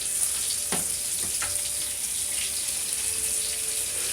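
Chicken thighs fry in a pan at home with a steady, even sizzle and hiss that holds at a moderate level throughout, with a few faint clicks and no talking.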